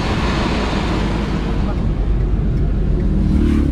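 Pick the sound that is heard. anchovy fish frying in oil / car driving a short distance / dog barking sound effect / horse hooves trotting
car driving a short distance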